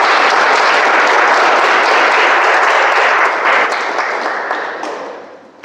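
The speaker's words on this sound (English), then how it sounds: "I request a big round of applause to both the speakers." Loud, dense applause from a meeting audience for two speakers after a prepared speech session, a sustained roar of clapping that slowly fades out toward the end.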